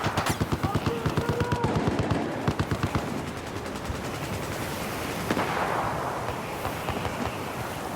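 Rapid gunfire in Battlefield 4, a sniper position overlooking the field: a fast, evenly spaced string of loud shots that gives way to rumbling explosions and battle noise.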